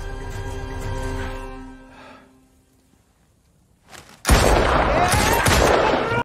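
Loud, dense burst of gunfire and explosive impacts in the war film The Covenant, erupting after a quiet, music-filled lull and continuing steadily to the end.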